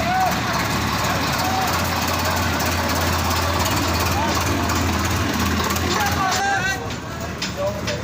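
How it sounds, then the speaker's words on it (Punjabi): A loud, steady tractor engine rumbles with a rhythmic knocking chug throughout, pulling two trolleys carrying about thirty people, with faint voices in the background. "ਟਰੈਕਟਰ ਤੁਰਿਆ ਜੀ ਦੋ ਟਰਾਲੀਆਂ"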